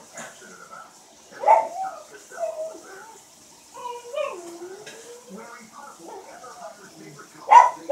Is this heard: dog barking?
yes